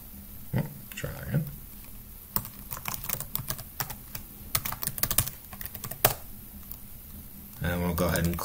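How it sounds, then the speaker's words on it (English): Keys on a computer keyboard clatter in quick irregular bursts as a password is typed, with some quiet talk at the start and a voice speaking at the end. "typing in the password."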